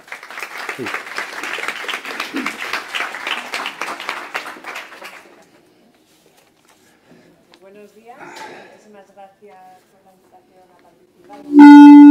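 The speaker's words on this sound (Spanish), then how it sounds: "Un aplauso." Applause from an audience at a talk on the EU building energy efficiency directive, a loud dense clatter of clapping for about five seconds that fades out, followed by quiet and faint handling sounds.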